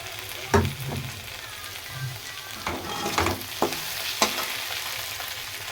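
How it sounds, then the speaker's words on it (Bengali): Ginger and garlic frying in a pan, a soft steady sizzle broken by a few louder spatters and stirring knocks, close up with no voices. "তো আদা রসুনটা আমার এর সাথে একটু ভালো ভাজা হয়ে গেছে হালকা করে"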